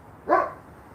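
A dog gives one short, sharp bark, close by and fairly loud, in an otherwise quiet room.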